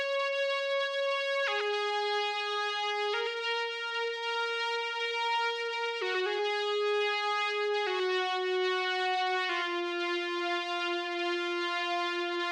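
A bright synthesizer lead built from free VST plugins plays a slow melody of sustained, clean harmonic notes that step between pitches every second or two, alone and with no voices.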